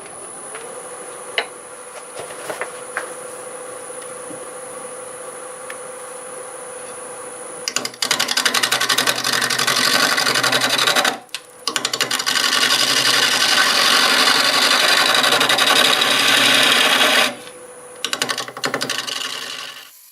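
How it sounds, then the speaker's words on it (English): A maple burl spins on a wood lathe at about 700 RPM, starting with a steady motor hum before a 1/2 inch bowl gouge bites in with loud, continuous rough scraping and shearing that briefly drops out midway, then falls away again. "So I'm going to start with a 1/2 inch bowl gouge. We're doing about 700 RPM."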